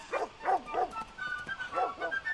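Dogs bark in a movie scene, a quick run of about five or six sharp close barks in two bursts, with a faint background tone between them.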